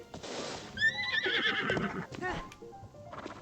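A horse in the video game Breath of the Wild lets out a loud rising whinny and snorts, close by, with a few hoof clops, and people talk around it.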